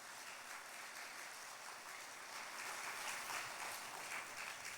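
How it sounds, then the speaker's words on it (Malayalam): A church congregation claps together during a sermon, steady quiet applause from a distance that swells slightly toward the end. "ഒന്ന് കൈയടിച്ച് കർത്താവിനെ മഹത്വപ്പെടുത്തുക"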